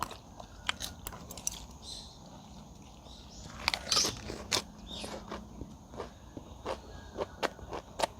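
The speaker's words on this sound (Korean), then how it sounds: "이거 먹어 아삭이 아삭이 아삭이 고추." Crunchy green chili pepper bitten and chewed close up, a run of sharp crisp crunches and clicks over several seconds, outdoors on a mild day with no talking.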